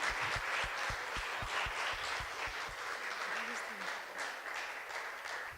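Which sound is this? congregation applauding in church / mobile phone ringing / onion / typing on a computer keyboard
congregation applauding in church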